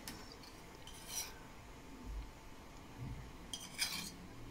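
A spoon stirs a toast mixture for an Egyptian toast bread pudding in a bowl, with liquid added a little at a time. Soft, quiet scraping is broken by two brief metallic clinks, with no voices.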